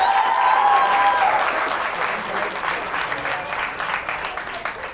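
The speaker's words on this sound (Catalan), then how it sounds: "Aplaudiment també per ell" A studio audience at a Catalan TV word quiz applauds a contestant with a steady crowd clap. A voice is briefly audible at the start, and the clapping slowly fades over the clip.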